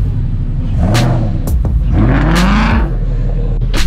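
A 5-litre Ford Mustang revs hard in a drag race, its loud, close engine note climbing in repeated rising sweeps over a deep, steady rumble.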